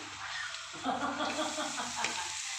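Onion, carrots and beans sizzle in a hot pan while being stirred, a steady close frying hiss with soft scraping pushes and no talking.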